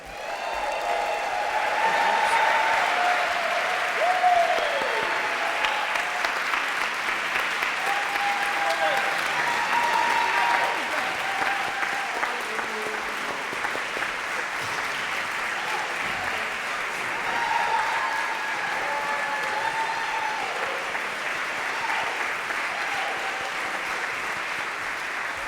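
A theatre audience gives long, sustained applause for the Heralds of Harmony barbershop chorus at an evening concert, a dense wash of clapping that swells early and stays steady, with a voice faintly heard over it.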